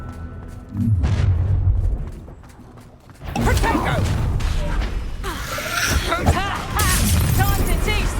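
Spell blasts from the Hogwarts Legacy video game, a Confringo fire spell: a sudden loud boom and crackling burst rings out, then continues as dense rumbling, creaking and whooshing impact noise over several seconds, with voices among the effects.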